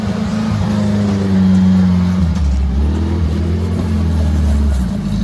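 An off-road vehicle's engine on a charity trail ride in Tahuya, Washington, drones loud and close, rising and holding in sustained revs as the driver gives it gas.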